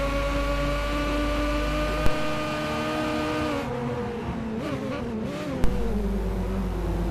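A touring car engine in an online BTCC racing video game at Suzuka holds a steady, high droning whine, then its pitch wavers and shifts mid-way, with two brief clicks and no talk.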